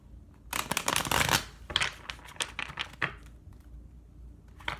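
Tarot cards are riffled and shuffled up close, a dense burst of crisp flutter followed by several shorter slaps and shuffles.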